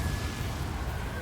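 A fire spell cast in the Hogwarts Legacy video game, a single short burst of low rumbling, crackling roar filling the moment, with a voice faintly present underneath.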